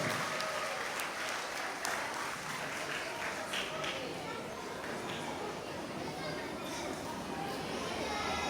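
A school audience claps steadily for Year 6 students at an awards and graduation ceremony, a dense, continuous wash of applause from a large indoor crowd with faint chatter mixed in.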